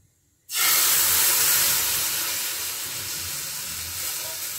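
A ladle of chakli pitha batter hits a hot pan greased with oil and bursts into a loud, steady hiss that settles into a continuous sizzle, close and unbroken after a moment of near silence.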